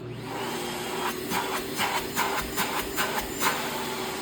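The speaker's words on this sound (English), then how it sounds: "We're going to turn it on to minimum and test the suction" A bagged vacuum cleaner running on minimum suction makes a steady motor hum, with a series of rhythmic swishing pulses about three times a second as it works, and no voices.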